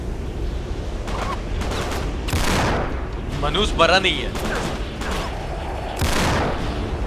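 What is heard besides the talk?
gunfire in a video game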